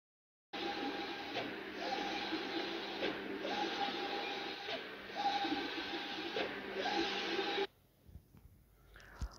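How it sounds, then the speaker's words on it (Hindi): A plotter printer running steadily, its carriage whirring and rasping in repeated passes with a faint tonal hum, loud and close for about seven seconds before stopping abruptly. "आई थिंक आपको समझ आया होगा कि प्लॉटर प्रिंटर कैसे काम कर रहे हैं"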